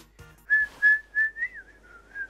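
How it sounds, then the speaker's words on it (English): A person whistles the StarCut minigame theme from Kirby's Adventure Wii, a short run of clear, bright tonal notes in a bouncy rhythm, close and alone. "Why am I whistling the freaking StarCut theme?"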